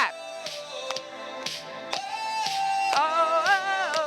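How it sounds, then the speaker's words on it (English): Rhythmic taps and claps from an exercise class, sharp evenly spaced strikes roughly twice a second, heard up close over faint music or singing. "Tap and clap."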